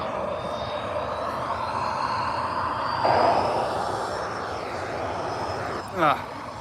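A Ryanair airliner at Manchester Airport gives a steady, broad engine roar from a distance that fills the whole clip, with people talking underneath.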